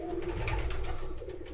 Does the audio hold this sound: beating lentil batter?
no